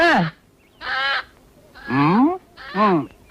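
Four loud, harsh squawking chicken calls in a row, close by, with short pauses between them and no talking.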